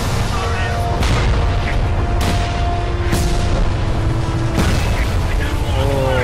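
Heavy explosions boom in Frontlines: Fuel of War as a teammate is blown up, several loud blasts spaced about a second apart over dense rumbling battle noise, with someone talking throughout.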